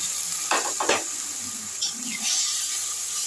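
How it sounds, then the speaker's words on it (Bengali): Onion, ginger, garlic, cumin, coriander and chilli powders sautéed in mustard oil in a pan, with a soft ongoing sizzle broken by a few sharp stirring scrapes up close. "পেঁয়াজ আদা রসুন জিরে গুঁড়ো ধনে গুঁড়ো লঙ্কার গুঁড়ো এইগুলোকে আমি সব একটু কষে নিচ্ছি"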